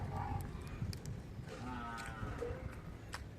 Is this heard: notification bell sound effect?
no